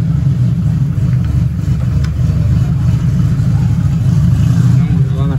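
Carbureted engine idling and blipping the throttle while being tuned with a Fueltech wideband sensor, a loud steady low rumble running throughout with voices talking over it.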